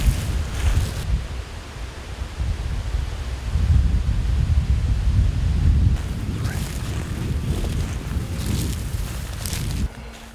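Strong wind buffets across an open hillside, a loud rumbling roar with gusty surges and microphone buffeting that rises and eases in waves.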